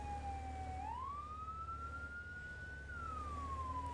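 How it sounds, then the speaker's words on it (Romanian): An emergency vehicle siren wails steadily, its pitch rising, holding, then gliding down again, moderately distant and continuous over a low rumbling engine-like drone. "Am dat drumul la sirene."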